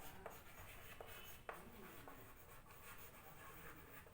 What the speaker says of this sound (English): So now if I'm going to write over here